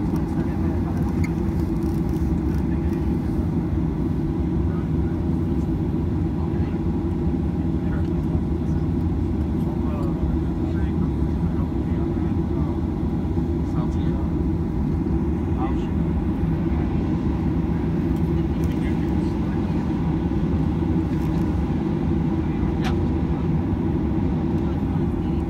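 Southwest airliner slowly taxiing to the gate at LAX, heard from inside the cabin as a steady, loud engine drone and low rumble throughout, with faint cabin noises.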